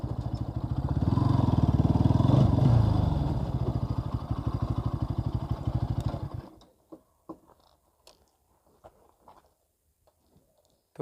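A Bajaj Pulsar NS 200 motorcycle ridden toward Ghosh Pukur Eco Park runs loud and steady for about six seconds. Then the engine cuts out, leaving only a few faint clicks.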